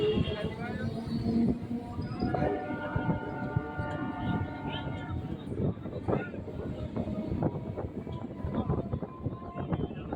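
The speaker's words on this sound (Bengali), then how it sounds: "ট্রেন এখন ধীরে ধীরে সূর্যপুর স্টেশন ছেড়ে বেরিয়ে যাচ্ছে" A train slowly pulls away from Suryapur station, its engine droning with a steady tonal hum and rattling wheels, while voices murmur nearby and wind buffets the microphone.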